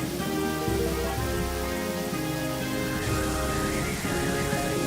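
Loud, continuous rain pours in Pokemon Black, a dense steady patter with game music tones running through it and no talking.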